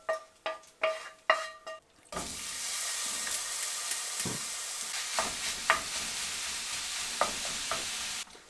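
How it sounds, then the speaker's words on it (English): Moose meat sizzles steadily in a pan after a few sharp knocks and clatters of utensils at the start, with occasional stirring scrapes and taps over the continuous loud frying hiss. "then we're gonna cook our moose meat in the same pan here"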